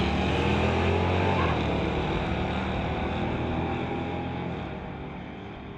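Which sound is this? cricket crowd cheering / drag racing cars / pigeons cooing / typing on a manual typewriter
drag racing cars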